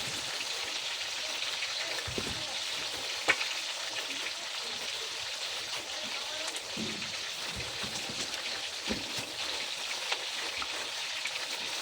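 Ham sizzling and frying in a pan, a steady close crackle and spatter running throughout with a few brief clinks or stirs, no talking.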